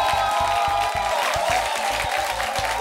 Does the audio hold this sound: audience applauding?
yes